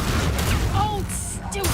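Confringo blasting spell explosion in the video game Hogwarts Legacy, a loud burst of blast noise and crackling debris layered with game effects and a few thin whistling tones.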